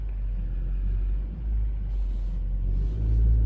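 Road traffic creeping forward in a queue near traffic lights, a heavy low engine rumble with a faint hiss rising midway and swelling again at the end.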